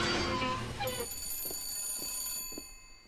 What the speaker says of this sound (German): Telefon! Geh mal ran.